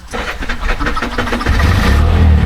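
A tuk tuk engine cranks with a rapid chugging starter rhythm for about a second and a half, then catches into a louder, low, steady idle, close by.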